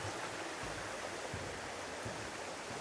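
A waterfall in Shenandoah National Park roars as a steady, dense wash of broadband rushing water, close and constant with no voices.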